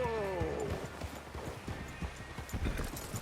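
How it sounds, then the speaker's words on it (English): Horse hooves clip-clop at a gallop in the Red Dead Redemption 2 video game, a steady patter of hoofbeats mixed with a brief whinny, game sounds and faint voices. "Hey, control that horse."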